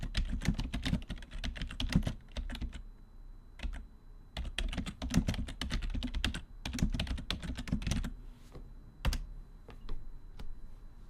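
Fingers tap out a prompt on a computer keyboard in steady, close bursts of clicking keystrokes, with brief pauses between phrases and no talking.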